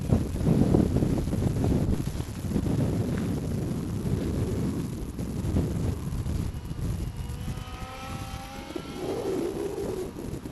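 Steady wind buffets the microphone outdoors while an XK Edge A430 sport RC airplane flies nearby, a continuous low rumble with a faint motor whine rising near the end, no talk.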